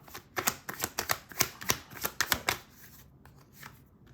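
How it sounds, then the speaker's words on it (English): Rider-Waite tarot cards are shuffled by hand, a close, quiet flurry of crisp riffling slaps in quick uneven bursts, then a short pause with faint handling as a card is pulled. "I'm going to pull a Rider-Waite card as well"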